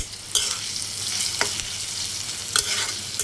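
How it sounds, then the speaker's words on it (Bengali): Chopped onions and green chillies frying in oil in a wok make a soft, steady sizzle, with a few sharp scrapes and taps as they are stirred, and no one speaking. "পেঁয়াজ কুচি এখন ভেজে নেব"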